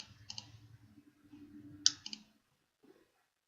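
Computer mouse clicks while working in Rhino 3D modeling software: a few sharp, close double-clicks spaced over a couple of seconds, heard over a faint low hum with no speech.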